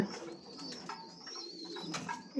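Pigeons in a loft giving soft, repeated throaty coos, close and fairly quiet, with no talk over them.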